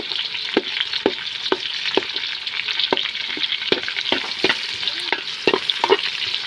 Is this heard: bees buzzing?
no